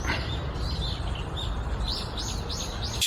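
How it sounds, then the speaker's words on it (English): Birds chirp and tweet repeatedly over a steady low rumble of outdoor ambience, with short bright calls clustering toward the end. "the sound of birds in a forest"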